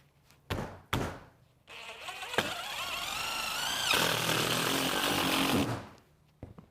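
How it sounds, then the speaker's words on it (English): A couple of sharp knocks, then a power driver whirs for several seconds, its pitch shifting as a screw drives through standing seam metal roof trim, before the motor stops and a faint tap follows. "And we can now start putting our screws through."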